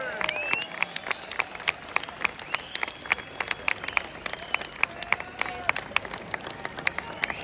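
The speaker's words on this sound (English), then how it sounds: "let's have a round of applause for the brave lady that has not backed down" Crowd applause at a London street march for freedom of speech. Scattered claps rattle at an irregular pace over outdoor noise, with whistles and voices mixed in.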